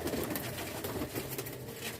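A pigeon coos softly and repeatedly, its low throaty calls rolling on continuously with no other sounds.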